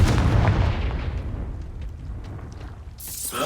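A Confringo fire spell in Hogwarts Legacy erupts as a heavy, booming explosion up front, its rumble decaying over a few seconds before a bright sizzling burst at the end.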